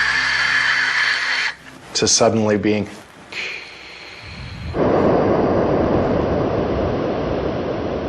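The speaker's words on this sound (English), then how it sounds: "what you hear is mostly wind noise as the parachute's descending through the atmosphere," Roaring, broadband wind noise from the Huygens probe descending by parachute through Titan's atmosphere fills the end, a steady rushing hiss that follows a voice talking over a dropping whoosh.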